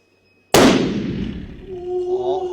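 A large-caliber rifle fires one loud, close shot at a civilian shooting range in China, a sharp crack followed by a long rumbling decay, with faint talk starting as it fades.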